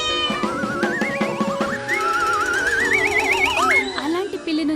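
A cartoon cat meows in a long, wavering, drawn-out cry that rises and bends in pitch, with warbling tones and a narrator's voice alongside it.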